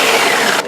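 Brief loud whir of a blender pulsing a frittata mixture of eggs, a single short burst that cuts off abruptly near the end.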